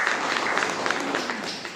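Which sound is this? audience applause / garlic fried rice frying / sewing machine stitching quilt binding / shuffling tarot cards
audience applause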